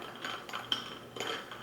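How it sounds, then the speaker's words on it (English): Faint clinks of a spoon against glass and ice while stirring milk into an iced chai latte, a few soft, close taps over a quiet background. "So I'm gonna give it a stir."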